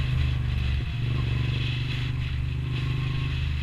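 A Moto Guzzi V9 850cc motorcycle riding along, its engine giving a steady, loud low throb with a slight dip early on, heard alone without talk.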